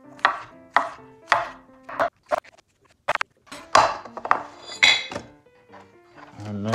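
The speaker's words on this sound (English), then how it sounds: "Next, green onion. Cut off the stems." Knife chopping green onion stems on a cutting board, a series of sharp, separate taps with pauses between them, close and fairly loud.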